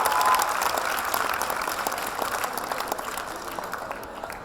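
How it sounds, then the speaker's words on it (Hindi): A crowd applauds steadily, a dense wash of clapping that holds strong and slowly tapers off. "एक बार जोरदार तालियां इन सभी अतिथियों के लिए जरूर होनी चाहिए"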